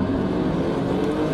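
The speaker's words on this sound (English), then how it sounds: "some cars racing automatically on the Spa track." Race cars lap the Spa circuit in the driving game Assetto Corsa during an automatic benchmark race, a steady, loud engine drone that blends several cars with no breaks.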